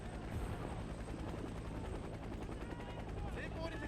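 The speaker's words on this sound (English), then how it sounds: "we'll keep this helicopter in the air for support" A helicopter in a Cold War 1975 video game mod gives a continuous, fairly loud rotor thrum under bursts of machine-gun fire and someone talking.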